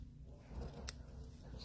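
Scissors trim paper for a Hershey treat slider, heard as a single faint, close snip in an otherwise quiet moment.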